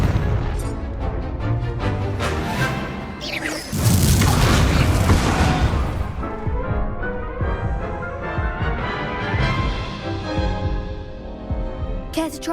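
A Confringo spell blast in the Hogwarts Legacy video game: a dense, loud burst with a sharp boom partway through, thick crackling layers and a long rumbling decay.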